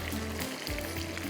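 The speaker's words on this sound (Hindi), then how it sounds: "इसको मैं देखती हूँ थोड़ा फ्राई हो रहा है" Chicken tenders frying in hot oil, a steady close sizzle and crackle with a low hum beneath, continuous for the whole moment without talk.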